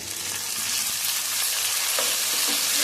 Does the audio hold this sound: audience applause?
no